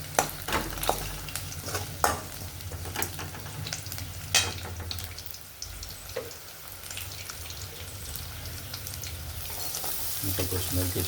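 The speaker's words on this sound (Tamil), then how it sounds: "இதெல்லாம் சேர்த்து நல்லா வதக்கி எடுத்துக்கணும்." Onions, curry leaves, dal and dried red chillies sauté in a pan for a cabbage stir-fry, giving a steady close sizzle with scattered spatula scrapes and stirring clinks throughout.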